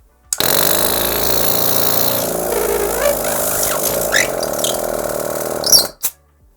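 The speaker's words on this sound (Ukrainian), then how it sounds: "вимкнемо компресор і послухаємо, як він буде працювати" An Aspiring Airflow 3 metal air compressor (85 L, 180 W), powered from a car cigarette-lighter socket, starts abruptly and runs with a loud, steady mechanical drone and rattle for about six seconds, then cuts off with a squeak.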